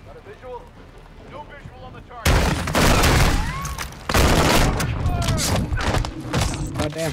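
Shotgun blasts and heavy gunfire in Call of Duty Modern Warfare II: a quiet stretch with a voice gives way to a loud, dense barrage of repeated shots that keeps going, with a brief lull partway through.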